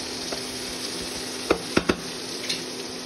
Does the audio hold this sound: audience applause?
no